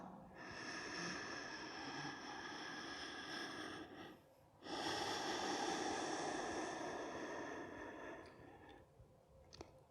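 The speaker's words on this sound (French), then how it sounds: "on va faire 3 respirations profondes dans cette posture" Deep breaths during a seated chair yoga posture: long, close, airy inhales and exhales with a brief quiet gap between two extended breaths, soft and steady, with no talk.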